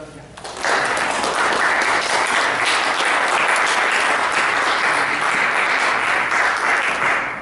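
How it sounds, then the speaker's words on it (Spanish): A university philosophy gathering's audience breaks into applause after a quiet opening, a dense, sustained roar of clapping from a large crowd in a hall that holds steady, then tapers at the very end. "unas fuertes palmas para Miguel Ingunza."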